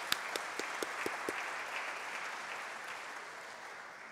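A crowd breaks into steady applause, a few sharp claps standing out at first before merging into a sustained, even wash of clapping.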